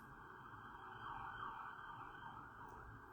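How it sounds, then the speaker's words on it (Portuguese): Ambulance siren passing at a distance, a faint wailing tone rising and falling over low traffic rumble, swelling slightly midway and then easing off. "Não sei se vocês estão escutando a sirene. Ambulância passando aqui."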